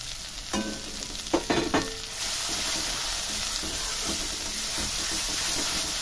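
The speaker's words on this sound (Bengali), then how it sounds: "ঘন ঘন নেড়ে দেব আর শিমটাকে একটু শুকনো করে নেব" Flat beans fry in a generous amount of oil in a wok and are stirred often, with a few sharp scraping stir strokes over a constant close sizzle and hiss.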